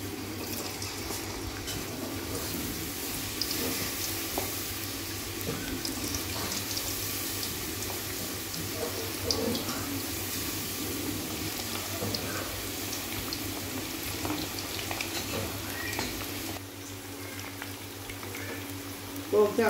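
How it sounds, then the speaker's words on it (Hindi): Mutton kofta meatballs sizzle and bubble in hot oil, a steady broad frying hiss that runs throughout with occasional soft pops, moderately loud and close. "ऑयल हमारा गर्म हो गया, अब मैं इसके अंदर कोफ्ते डालूंगी।"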